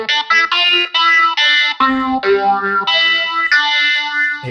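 Mellotron guitar sample run through Guitar Rig effects, giving a chorused, distorted tone with echoing tails. A series of sustained, bright notes and chords changes every half second or so, loud and alone with no voices.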